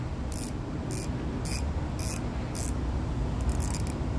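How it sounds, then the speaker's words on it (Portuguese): An Invicta Pro Diver SCUBA 6984 gold-plated watch has its unidirectional ratchet bezel turned, making a steady series of small evenly spaced clicks, about two per second, close up and quiet over a soft background hiss. "Catraca unidirecional, ó."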